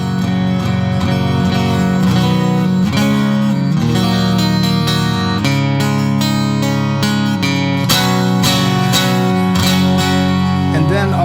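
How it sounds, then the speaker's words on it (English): An acoustic-electric guitar plays steady chords and picked notes through its under-saddle piezo pickup, loud and close, sounding like a plain acoustic guitar with no voice over it. "The other side is acoustic, which are under the saddle, so it sounds like an acoustic guitar."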